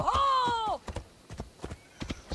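Horse hooves clip-clop at a steady gallop while riding cross-country in Assassin's Creed Odyssey. A loud whinny opens the sequence before the hoofbeats carry on alone.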